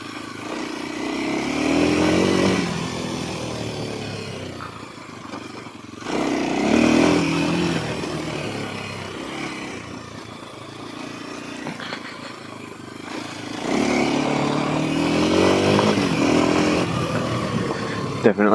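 A dual-sport motorcycle revs and accelerates over an off-road trail, its engine rising in three loud surges with quieter idling stretches between, and a voice speaks over the engine noise.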